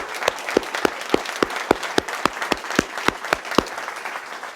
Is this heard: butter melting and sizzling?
no